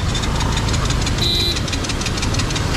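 An overheated Bajaj NS200 motorcycle engine running loud and close, a steady rough mechanical drone with a knocking edge that continues unbroken throughout.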